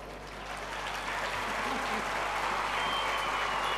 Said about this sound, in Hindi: आप अपने लिए ताली बजा रहे हो।